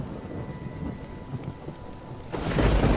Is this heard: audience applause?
no